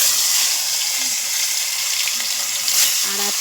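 Pieces of fish sizzle loudly and steadily in hot oil in a kadai, a dense, continuous frying hiss throughout, with faint distant tones from loudspeakers in the background.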